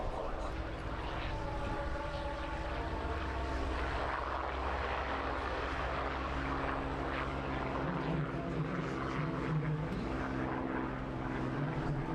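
A Mark 1 Hurricane's propeller engine drones loudly and steadily as it flies past from left to right at an air display, with a faint commentator's voice underneath.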